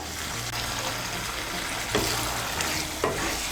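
Slit green chillies are stirred into a watery potato and ridge gourd curry over raised heat, giving a constant bubbling sizzle with a couple of sharper spoon scrapes against the pan.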